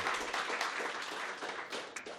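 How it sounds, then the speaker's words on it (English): Steady audience applause at a public debate on a tax working group's findings, dense overlapping clapping filling the whole stretch at even loudness. "So big round of applause."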